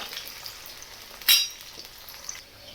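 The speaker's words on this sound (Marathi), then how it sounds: "आणि थोडे दहा मिनिटं तरी याला फ्राय करणार आहे" Sabudana khichdi frying in a pan, a soft steady sizzle with one brief louder clink or scrape near the middle and faint stirring.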